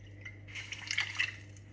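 Water poured into a pan while making homemade gathi, a brief close splash and trickle over a faint low hum, with no voices.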